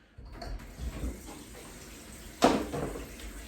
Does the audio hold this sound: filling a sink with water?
yes